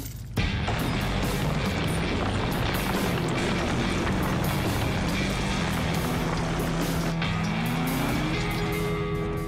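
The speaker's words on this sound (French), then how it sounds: "le moteur EcoBoost démarre en trombe, avec du couple à revendre à bas régime" A Ford F-150 with an EcoBoost V6 engine accelerates hard off-road, a loud, continuous engine roar with a rising tone near the end and no talk over it.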